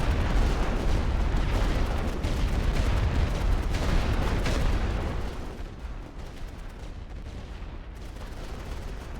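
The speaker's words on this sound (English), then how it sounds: "guessing where they're going to be when the artillery starts landing" Artillery barrage crashes down in a war video game, a dense, loud roll of overlapping blasts and rumble that eases to a lower, steadier din after about five seconds.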